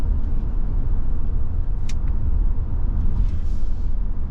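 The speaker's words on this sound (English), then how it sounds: "You get a little bit of road noise, a little bit of wind noise because you're up higher" Inside a 2024 Toyota Grand Highlander Platinum SUV on the move, road and wind noise make a steady, even rumble and rush that fills the whole stretch with no break.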